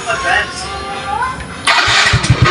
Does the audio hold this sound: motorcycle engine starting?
yes